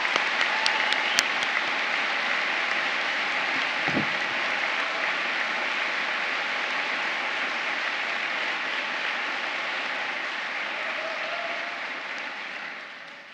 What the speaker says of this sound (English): So can we have a round of applause for all the people that help do that?